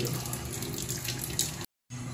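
Water from a can being added to a cooking pot of ginataang santol, heard as a steady wash of running, splashing liquid that cuts off abruptly, then resumes briefly, without talk.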